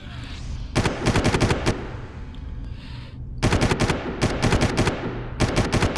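Assault rifles fire in the Far Cry video game, loud and close, in long sustained bursts of rapid shots broken by short pauses.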